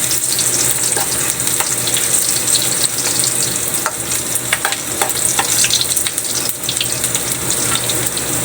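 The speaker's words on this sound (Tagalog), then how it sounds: "Nagpainit na tayo mantika guys. Yung mantika pala ginamit guys, yung pinagpituan natin ng bangus. Lagyan na natin yung bawang guys." Garlic frying in hot oil left over from frying milkfish, a steady dense sizzle with crackling spatters, close and loud throughout with no talking.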